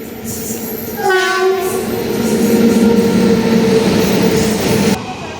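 A mail train rumbles past close by, loud and steady, with a horn sounding near the start before the noise cuts off.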